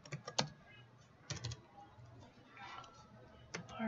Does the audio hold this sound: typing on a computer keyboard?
yes